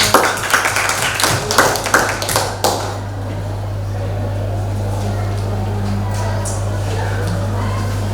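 Audience applause at an Indonesian seminar on mobile app development, a burst of clapping for about two and a half seconds that stops abruptly, leaving a steady low hum and faint room noise.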